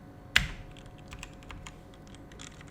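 Soft keystrokes on a computer keyboard while entering code, one sharp click up front followed by a quiet, scattered patter of light taps, faint and close with no talking.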